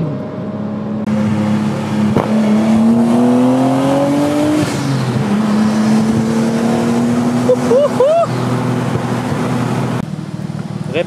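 Nissan Skyline R33 GTS25T Spec 1 with 250 horsepower, engine droning steadily while driving on a road, pitch rising and falling through gear changes, loud and close inside the car.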